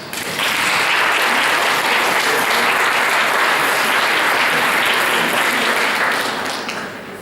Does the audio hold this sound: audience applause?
yes